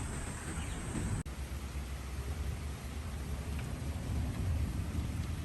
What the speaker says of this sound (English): Rain, don't go away.